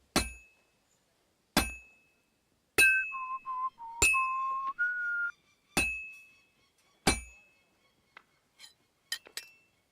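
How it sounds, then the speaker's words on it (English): Metallic hammer strikes ring out in a slow, spaced series of about a dozen clean clinks, some with a lingering tone, from a video game smithing scene, with no talk. "I have to hammer it more evenly."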